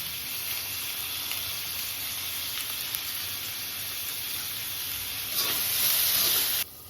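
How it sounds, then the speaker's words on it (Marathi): Ground masala paste roasting in hot oil for a mutton-style kalvan gravy, a dense steady hiss and sizzle that swells louder near the end before cutting off abruptly, no voices. "तेलामध्ये सगळं वाटण आपण भाजून घेऊया."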